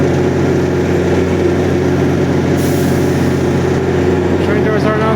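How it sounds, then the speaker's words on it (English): A GO Train at Oriole GO Station with its doors closing before departure, a loud steady low rumble of idling engine and rolling stock with a brief higher hiss partway through, all in one continuous drone. "Train doors are now closing at Oriole Go Station."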